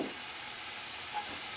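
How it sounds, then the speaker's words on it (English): Peppers frying in olive oil in a pan, a steady bright sizzle and hiss close up, with a faint stirring scrape partway through and no voices. "I like to give this a good stir before adding the rest of my spices"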